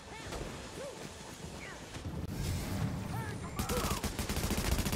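Gunfire in The Division, where a sniper rifle cracks out amid other shots and booms, growing louder and denser toward the end of the short burst.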